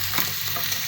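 Mushrooms and onion go into a hot pan, a brief steady sizzle with a soft stir while stuffed chicken breast in cream sauce is being made.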